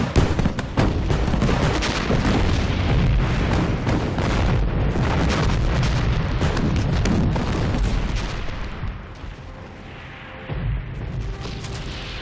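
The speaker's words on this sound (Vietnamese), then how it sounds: "Là tiếng pháo" Artillery cannons fire in a war film battle, dense rapid booms and blasts rolling one after another at close range before the barrage briefly eases and then resumes.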